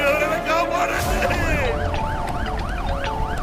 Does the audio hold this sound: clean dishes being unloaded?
no